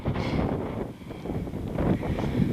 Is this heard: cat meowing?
no